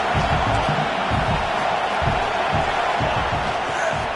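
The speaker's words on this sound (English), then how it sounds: "Listen to this crowd just shaking the girders of this place, trying to help their defense." A packed football stadium crowd roars loudly and continuously during a game against Miami, a dense wall of cheering and shouting with no pause across the clip.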